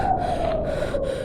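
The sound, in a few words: old woodcutter panting, horror story sound effect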